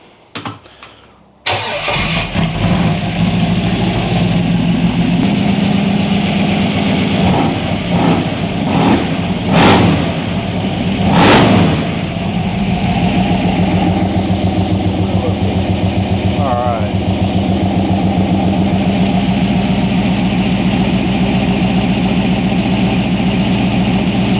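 T-bucket hot rod engine cranks after a brief quiet moment, catches and settles into a steady, loud close idle with a couple of sharp revs early on, running continuously to the end.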